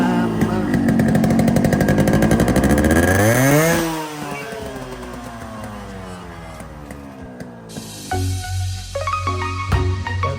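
A dirt bike engine revs hard, its pitch rising and then dropping away, before settling into an uneven idle and throttle blips at close range.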